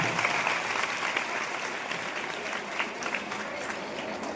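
An audience at a comedy show bursts into sustained applause, dense clapping from many people filling the room at an even, moderate level throughout, without speech on top.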